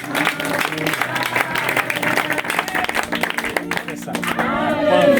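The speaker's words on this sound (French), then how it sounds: "Applaudissez pour la conversion." A church congregation claps and cheers for a conversion during a lively service, a loud burst of clapping mixed with shouting voices and talk throughout.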